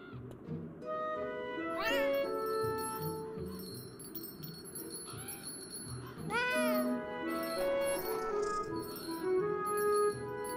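Cat meowing in the video game Beyond Eyes, two drawn-out rising-and-falling meows about four seconds apart over a steady game soundtrack with chiming tones.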